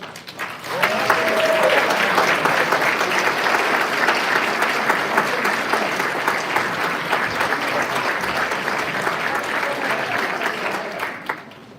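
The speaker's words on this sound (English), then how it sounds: "give us a massive round of applause" A large conference audience gives a standing ovation, sustained, dense applause that swells quickly and holds loud for several seconds before tapering slightly, with a brief cheer or whistle early on.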